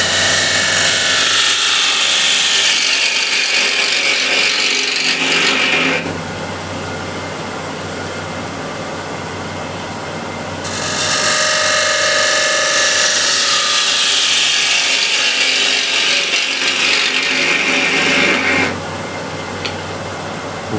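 A ball gouge cuts wood on a lathe, a loud, continuous rough shearing whine in two long passes, separated by a quieter stretch of the lathe running, with no one talking.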